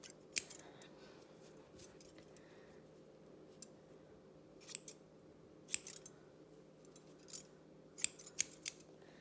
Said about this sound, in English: cut along their ear, you just make a big triangle.